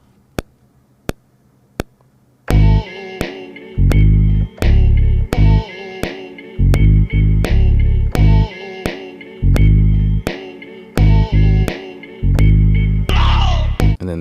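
An M-Vave Bluetooth MIDI keyboard plays a song verse, a rhythmic pattern of deep bass-heavy notes and chords, loud and close, starting after a few clicks of a metronome.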